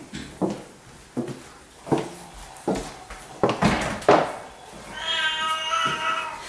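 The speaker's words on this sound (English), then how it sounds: "There's actually a cat being groomed here right now." A cat being groomed in a grooming salon meows repeatedly in short, spaced cries, growing more drawn-out and whiny toward the end, close and fairly loud against a quiet room.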